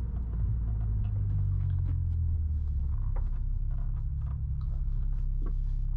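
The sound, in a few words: 2008 Honda S2000 car driving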